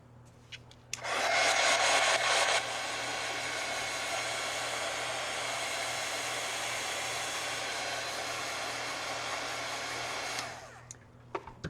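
A hair dryer runs steadily for about ten seconds, drying a craft project up close, with a louder, harsher start before it settles into an even whoosh and cuts off.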